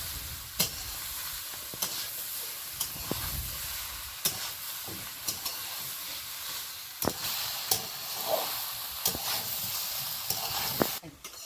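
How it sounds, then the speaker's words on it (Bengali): Potatoes with chili powder and turmeric fried in oil, a continuous sizzle broken by regular sharp knocks of a spatula stirring against the pan, close and fairly loud. "এবার একটু আলুর সঙ্গে আর এটাও একটু নেড়ে চেড়ে ভেজে নিই"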